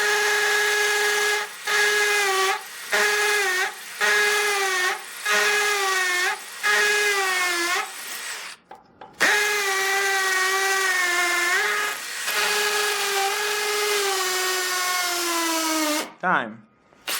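Milwaukee and Dewalt 12V hammer drills bore holes in masonry on hammer mode at high speed, a loud, close whine that repeatedly bogs and recovers in short bursts, with brief gaps between bursts.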